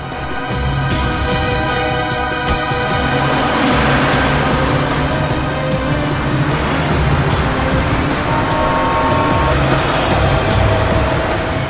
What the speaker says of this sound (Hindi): ए ड्राइवर, चलो चलो, गाड़ी चलाओ।